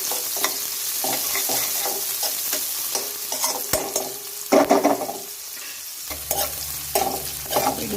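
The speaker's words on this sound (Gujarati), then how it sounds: "એ નાખી દઈશું આપણે, અને એને સરસ આપણે સાંતળી લઈએ" Finely chopped onion sizzles in hot oil for dhaba-style paneer bhurji, with irregular spoon stirs and scrapes over a steady crackle, heard close with no talking.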